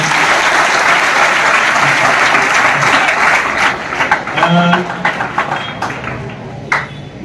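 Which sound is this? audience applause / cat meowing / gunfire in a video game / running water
audience applause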